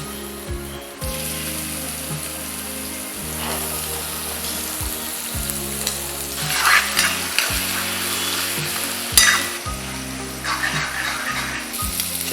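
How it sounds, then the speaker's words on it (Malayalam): Prawns frying in a pan of coconut oil give a steady sizzle and crackle, with clinks and scraping as they are stirred and turned; a few louder spatters rise above it. "ചെമ്മീൻ ഫ്രൈ ആക്കാൻ പോകുന്നു."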